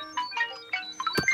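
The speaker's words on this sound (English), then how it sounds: "Sorry, my phone went off." A phone ringtone chimes in short bursts of tonal melody, fairly close, during a gaming session, with a sharp thump near the end.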